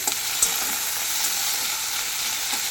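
Pointed gourd (potol) slices frying in a pan, a loud continuous sizzle with occasional stirring clinks and scrapes, no voices.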